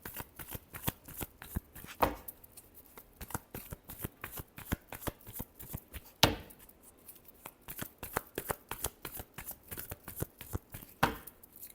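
Tarot cards shuffled by hand in a rapid, steady riffle of crisp flutters, with a few louder snaps where the deck is squared or cut, close and clear with no talking.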